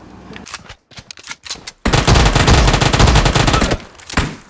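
Gunfire in the mobile battle royale game PUBG Mobile: a few scattered single shots and short bursts, then a loud sustained rapid automatic burst lasting about two seconds, close and dominant with no talking.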